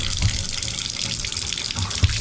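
Shower wand in an Airbnb bathroom in Gloster, Mississippi, spraying water under strong pressure, a steady close hiss with a couple of low thumps, no voices.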